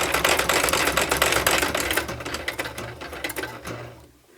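A sewing machine stitching lace onto a book cover, running in a fast, continuous rapid-fire clatter of needle strokes that gradually eases and stops right at the end.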